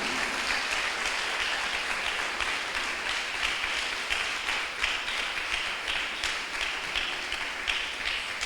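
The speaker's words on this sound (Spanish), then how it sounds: "Denle un aplauso al Señor." Steady applause from a church congregation fills the space for the whole stretch, dense and continuous with scattered sharper claps and no speech over it.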